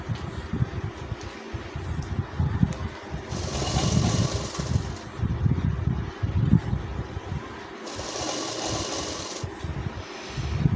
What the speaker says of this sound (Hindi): कपड़े के किनारे पे सिलाई चलाना है।